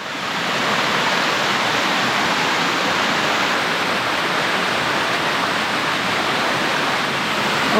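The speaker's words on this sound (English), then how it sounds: "couple of holes in the rock where the water's coming through" Water rushes through holes in the rock at a coastal waterfall near Narrabeen, making a loud, continuous broadband roar that holds steady with no other sounds on top.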